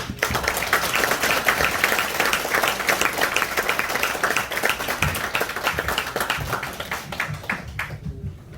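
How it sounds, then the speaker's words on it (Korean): An audience at a Gwangnam Ilbo Global Leader Academy lecture breaks into warm, sustained applause welcoming former Democratic Party leader Lee Nak-yon, dense steady clapping that fades out at the end. "대표님을 뜨거운 박수로 모시겠습니다"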